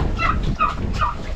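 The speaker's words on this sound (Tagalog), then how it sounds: "Mga pabo natin oh." Turkeys gobbling in three quick rattling bursts, close and loud over a rough background noise, with no talk.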